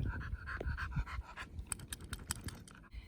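A pet dog pants fast and steadily close by during an indoor home fitness workout, its breathing soft and rhythmic with faint scratchy taps over it, and no one speaks.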